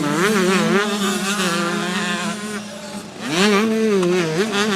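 Motocross bikes at a French championship round at Gaillac-Toulza race past fast through a rut, their engines screaming loud and close, one whining pass fading briefly before another bike roars by with rising pitch.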